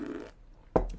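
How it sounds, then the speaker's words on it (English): A short fart sound effect played as a stream donation alert, a brief burst of muffled tone fading away, followed by a sudden sharp, rasping blast near the end. "Wolf Gassy Fart."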